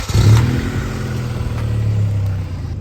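A 2000 Honda Accord engine running with a minor exhaust leak, a steady low rumble with a brief rise near the start, then even idling.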